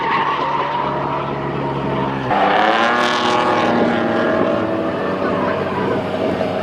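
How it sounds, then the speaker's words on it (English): Cars drifting in a session at a Japanese car show, with revving engines and screeching tires, loud and sustained at close range, the engine note climbing sharply partway through. "got like a little drifting session going on too"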